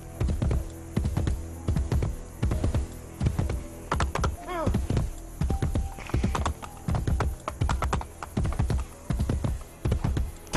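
Galloping horse hooves pound in a fast, steady clip-clop rhythm in the Assassin's Creed Brotherhood video game, loud and continuous, with a brief whinny midway and occasional tapping mixed in.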